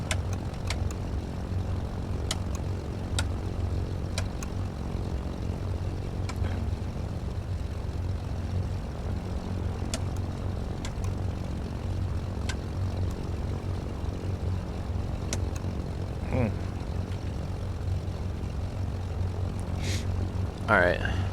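A Cessna 310R twin-engine propeller plane in flight simulation, its steady engine drone humming continuously at a moderate level, with faint clicks and brief soft tones scattered over it.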